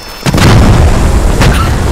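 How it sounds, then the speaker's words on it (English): Loud, deep video-game explosion that bursts suddenly and rumbles on in a sustained roar. "Oh, I just see the explosion."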